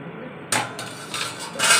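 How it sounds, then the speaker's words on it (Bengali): A metal lid comes off a cooking pot in a home kitchen with a sharp clank, followed by a brief scrape and a second clatter, close and fairly loud, alone without talk. "এখন দেখছি ঢাকনাটা খুলে।"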